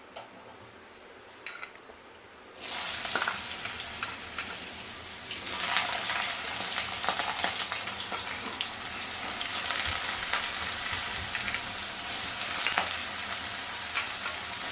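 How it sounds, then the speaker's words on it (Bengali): Potatoes frying in hot oil in a wok, seasoned with panch phoron and dried red chillies. A quiet stretch gives way to a loud, steady, close sizzle that continues throughout, with no talking. "এখন আলুগুলো ভেজে নেবো"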